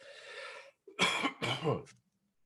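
Two harsh coughs in quick succession, close and fairly loud, after a brief stretch of low background noise.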